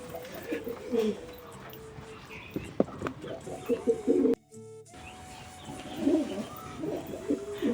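Madras pigeons coo in low, soft repeated calls amid general bird chatter, with a brief dropout partway through before the cooing resumes.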